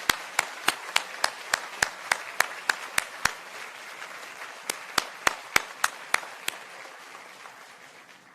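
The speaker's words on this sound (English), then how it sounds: "Let's also give them a round of applause" Sparse, distinct claps from a small audience at a white coat ceremony, individual sharp hand claps in an irregular rhythm that thin out and fade toward the end.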